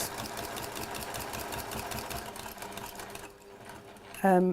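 A sewing machine runs close by in a steady rapid rhythmic chatter while stitching a quilt block, stopping near the end before a brief louder tone; someone talks over it.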